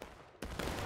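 A sudden loud musket volley goes off in the Civil War battle game War of Rights, with many rifles firing almost together. A ragged roar of shots follows close behind a quieter battlefield ambience.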